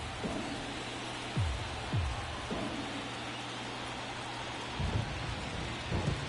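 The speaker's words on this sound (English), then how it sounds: "The rain has picked up a bit here in Los Angeles." Steady rain hiss in MLB The Show during a Los Angeles playoff game between Atlanta and the Dodgers, with deep thunder rumbles rolling in several times over the continuous downpour.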